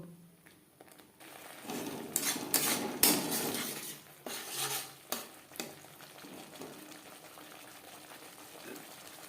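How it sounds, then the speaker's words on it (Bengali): Stirring a ghugni masala in a pot with a utensil, giving scraping and clattering strokes that cluster in the middle, loud near, then ease off into quieter scrapes and faint sizzling. "কাঁচা গন্ধ যাওয়া পর্যন্ত নাড়াচাড়া করে নেব"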